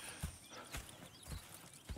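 Horse hooves clip-clopping in Red Dead Redemption 2, a few soft, irregular steps spaced through a quiet two seconds, with faint low ambience and no speech.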